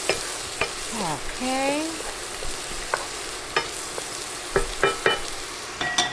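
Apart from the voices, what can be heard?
stirring corn in a frying pan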